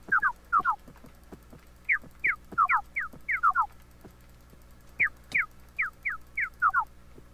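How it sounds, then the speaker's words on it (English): Loud birds in a modded Minecraft survival game let out quick bursts of sharp, rising chirps in scattered clusters, fairly close over a quiet background. "They're loud birds."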